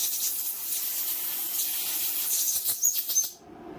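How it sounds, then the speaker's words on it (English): Compressed air blasting debris out of a Simplicity 560 snowblower during repair, a loud steady hiss lasting a few seconds with short sputtering bursts near the end before cutting off. "Then we'll take the compressed air over here."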